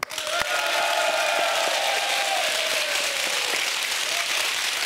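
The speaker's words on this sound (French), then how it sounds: "on peut vous applaudir" Studio audience applauding at a French RTL radio broadcast, steady dense clapping that rises quickly and holds loud for several seconds, with a faint sustained tone running underneath.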